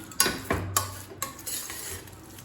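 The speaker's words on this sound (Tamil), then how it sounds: "அரிசி பருப்பு எல்லாமே நல்லா கரண்டியை வச்சுட்டு மேஷ் பண்ணிவிடுங்க" A ladle mashes pressure-cooked rice and lentils for akkaravadisal, giving a few close, soft thuds and scrapes against the pot, spaced irregularly over a couple of seconds.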